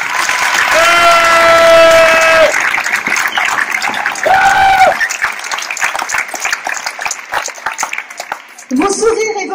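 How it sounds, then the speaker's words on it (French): An audience at the opening of a medieval festival in Josselin breaks into sustained applause, dense and close, while loud voices ring out over it and the clapping thins into scattered claps before swelling again at the end. "Applaudissez les bénévoles qui n'aménagent ni leur temps ni leur énergie."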